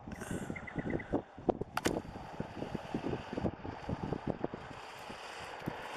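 Gusty wind buffets a microphone outdoors at a long-range rifle shooting range, producing irregular low rumbling thumps and roaring bursts throughout, with faint background noise underneath.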